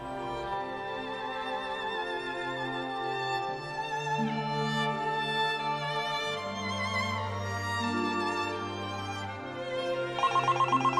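A telephone rings during a call to a pet owner, a looping electronic ringtone melody of sustained tones that plays continuously at moderate volume with no talking.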